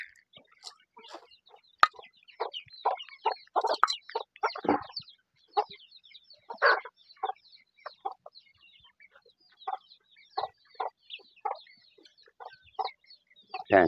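Backyard chickens clucking and squawking in rapid, uneven bursts while being fed alongside rabbits, close and fairly clear over a quiet background.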